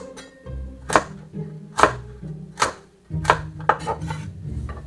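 A knife chops through pumpkin into chunky pieces on a board, with several distinct sharp chops spaced about a second apart, close and fairly loud with no talking.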